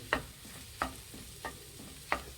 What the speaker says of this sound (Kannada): ಮೀಡಿಯಮ್ ಫ್ಲೇಮಲ್ಲಿ ಇಟ್ಬಿಟ್ಟು ನಾವು ಇದನ್ನು ಮಿಕ್ಸ್ ಮಾಡಬೇಕಾಗುತ್ತೆ